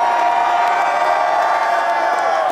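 A large outdoor concert crowd at Dreamville Fest roars in a sustained, dense wall of cheering and whooping, steady and loud throughout with scattered shouts rising above the mass of voices.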